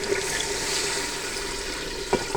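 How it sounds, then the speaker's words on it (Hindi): Water is poured into a cooking pot of chicken, potatoes and peas, a continuous close rushing splash with a brief clunk near the end. "अब हम इसमें पानी शामिल कर देंगे।"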